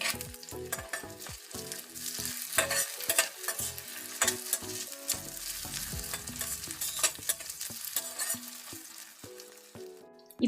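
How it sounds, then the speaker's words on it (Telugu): Sweet corn sizzles and crackles in a hot pan with half-fried ingredients as a spoon scrapes and stirs in quick irregular strokes, close up with no talk. "ఈ విధంగా సగం వేయించుకున్న తర్వాత దీనిలో మనము స్వీట్ కార్న్ వేసుకోవాలి."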